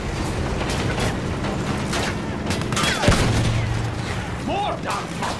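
A field gun firing in a video game amid a dense battle soundscape: continuous rumbling gunfire and explosions, with a louder blast near the middle, while a voice talks over the action.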